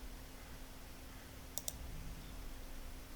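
Two quick computer mouse clicks, close and crisp, in an otherwise quiet room with a low steady hum.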